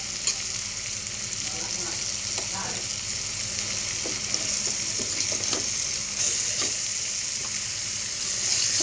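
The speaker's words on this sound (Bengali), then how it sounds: "এবার আস্তে আস্তে নেড়ে চেড়ে মশলার সাথে মাংসটাকে আমি মিশিয়ে নেব।" Meat sizzles in hot oil while it is stirred into spice paste for biryani, a steady loud frying hiss with occasional scraping of the spoon against the pot.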